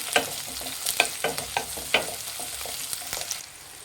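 Green chillies and garlic stirred in a hot cooking pan, giving a run of close, irregular scraping and clinking strokes over a soft, steady frying sizzle, with no voices.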